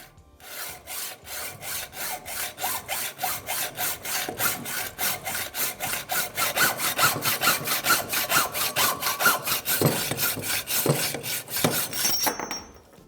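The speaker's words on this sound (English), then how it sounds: "Cut metal columns with normal hacksaw techniques." A hacksaw cuts through the metal steerer column of a threadless bicycle fork with steady, rapid back-and-forth strokes, close and loud with nothing else heard.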